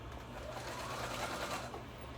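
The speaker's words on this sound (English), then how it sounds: "just a straight stitch, and I'm sewing down with my needle down and turn" A sewing machine runs a straight stitch through tulle on a dress, a steady continuous mechanical whir at close range with an even rhythm throughout.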